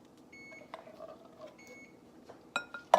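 Microwave-style oven control panel beeping as it is preset for baking pumpkin muffins, several short electronic beeps spread across the moment with a couple of louder final tones, no talking.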